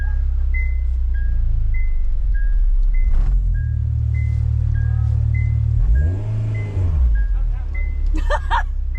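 A manual-swapped, right-hand-drive 1997 Honda Prelude SiR engine hums and rises in pitch while driving, with a string of short repeated electronic beeps over it and a brief squeak near the end.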